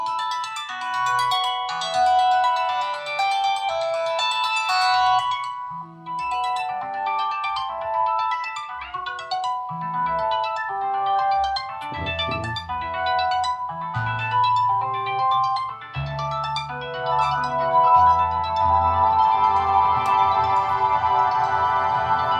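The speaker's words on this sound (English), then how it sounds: "If we go back over to the strings and make them sound more stringy." Layered synthesized string tones from a Eurorack modular synth play a sustained, evolving melody with pulsing bass notes entering partway through, steady and fairly loud throughout, with no voices.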